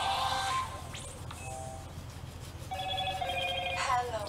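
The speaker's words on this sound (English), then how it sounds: "My phone's ringing in the background." A telephone rings in the background of a workshop, with two bursts of electronic ringing separated by a quieter gap, moderately faint and mixed with low background noise.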